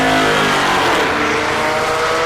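A Porsche race car at a drag strip start revs loud and close in a sustained, harmonic-rich engine roar that barely changes over a couple of seconds.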